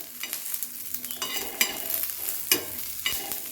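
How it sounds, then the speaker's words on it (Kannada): Spices dry-roasting in a pan for an okra chutney, stirred with a utensil: a low crackle runs throughout, broken by a few sharp scraping strokes of the spoon against the pan. Close by, with no talking. "ಸ್ವಲ್ಪ ಚೆನ್ನಾಗಿ ಹುರ್ಕೋಬೇಕು."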